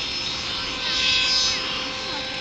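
Model radio-controlled helicopter flying backwards across a field, its rotor and engine giving a steady whine at middle distance that swells briefly and settles again, with no talk.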